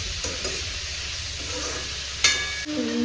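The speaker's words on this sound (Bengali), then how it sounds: "পেঁয়াজ ভাজতে হচ্ছে" Onions frying over high flame in a pan, a steady close sizzle with light stirring scrapes and a brief sharp clink near the end.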